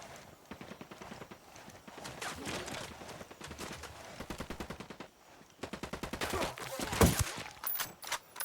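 Automatic gunfire in the co-op shooter game Ghost Recon: Wildlands, rapid bursts of evenly spaced shots that stop and restart, the last stretch heavier and louder, heard close up with no voices over it.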